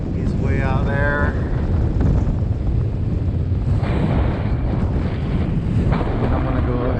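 Strong wind buffets the microphone outdoors over open water where kiteboarders ride, a steady loud roar throughout with a voice speaking briefly near the start and again near the end.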